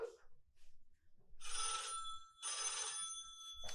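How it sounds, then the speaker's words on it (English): A telephone bell rings in two loud, close bursts separated by a short pause, with a few faint murmurs before the first ring. "Oh, let it ring. Let it go on ringing."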